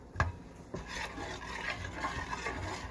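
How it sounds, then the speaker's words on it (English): Pasta sauce being stirred in a pot, a spoon scraping and clinking softly against the metal with a sharp tap near the start, low and fairly quiet with no talking. "I'm stirring it up."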